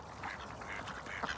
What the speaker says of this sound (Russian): О, утка на посадку пошла.